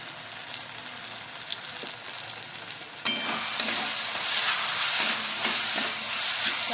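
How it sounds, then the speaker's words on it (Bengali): Ground turmeric, chilli and garam masala sauté in a pan for begun bharta, a gentle sizzle that suddenly swells louder midway, with repeated scraping stirs. "ভালো করে আরেকটু কষিয়ে নেব সবগুলো মশলা"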